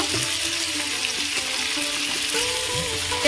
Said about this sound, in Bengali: এইভাবে কিছুক্ষণ ভেজে নেব